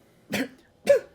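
Two short, harsh coughs come close together, each a brief rough burst separated by a pause, loud and near.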